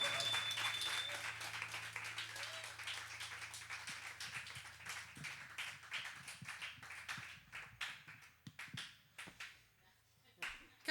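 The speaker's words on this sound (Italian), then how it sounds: "Che bello questo applauso" Audience applause at a live music session, a dense wash of claps that thins out and grows patchier toward the end, leaving scattered individual claps.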